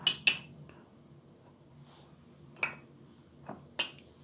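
A metal teaspoon scoops lemon salt and clinks against a container, giving a few crisp, close, isolated ticks and taps separated by quiet pauses.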